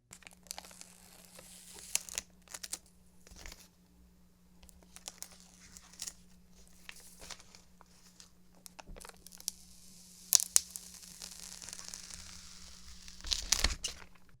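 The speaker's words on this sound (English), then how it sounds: "let's hear that ASMR peel real quick" Protective film is peeled off the glossy gradient navy panel of a Meletrix Zoom TKL keyboard, a close crinkling, tearing rustle in uneven bursts over a low steady hum, loudest toward the end.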